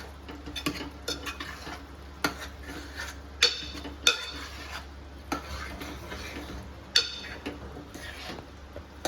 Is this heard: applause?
no